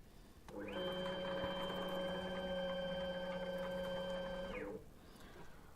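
A Workbee X CNC machine driven by StepServo motors traverses at 7,500 mm/min, giving a steady, close whining motor tone with layered pitches that starts abruptly, holds for about four seconds, then stops.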